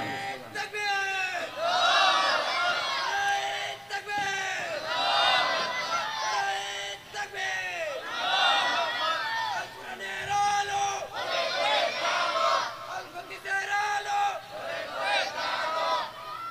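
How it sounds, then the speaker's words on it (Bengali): A crowd at an Islamic sermon gathering shouts the takbir chant in repeated loud collective bursts, call-and-response waves of many voices rising and falling over about sixteen seconds. "তো আমাদের এই নারে তাকবীরের স্লোগান, এটা সম্মিলিত, এটা সকলের স্লোগান।"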